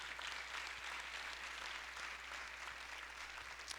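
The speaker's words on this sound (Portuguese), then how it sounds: "Agora você pode dar uma salva de palmas para o Senhor Jesus." Congregation applauding in a church service, a steady dense wash of many hands clapping together at moderate loudness with no talk over it.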